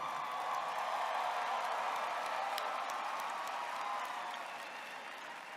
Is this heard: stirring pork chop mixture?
no